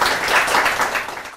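Applause from a TV studio audience greets a guest on a news discussion program, a short, loud burst of dense clapping that fades out quickly.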